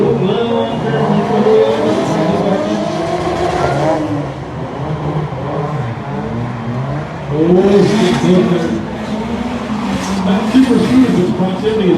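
Drift cars circle a wet track at a rainy DriftCon event in June 2021, engines droning and revving continuously at moderate distance, with tire noise rising around the middle and later passes, under steady commentary.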